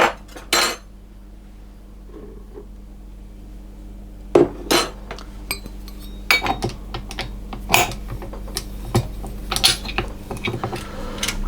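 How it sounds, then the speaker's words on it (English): Metal clinks and knocks as a dough hook is fitted onto a stand mixer and flour is added for mini cinnamon roll dough, with scattered sharp clatters and taps over a low steady hum, fairly close. "So I'm going to put my dough hook on and add the rest of the flour."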